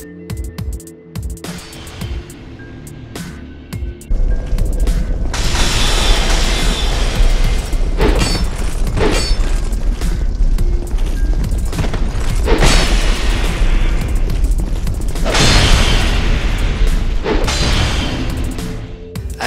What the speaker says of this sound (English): when the beam hits something solid, it does a little AoE explosion that will damage your opponent